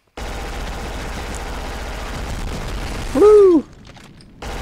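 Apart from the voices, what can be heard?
MP5 gunfire in the video game Black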